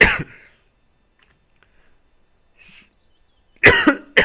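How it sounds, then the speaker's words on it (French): Sharp coughs, one at the start and a harder burst near the end, separated by near silence with a faint throaty sound between. "Me fait tousser."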